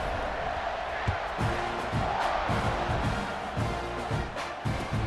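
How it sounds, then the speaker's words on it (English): Stadium crowd roaring at kickoff in an American football video game, a steady loud wash of cheering with scattered thumps and announcer-style talk underneath. "They're set to kick it off, and this crowd now ready to get behind them."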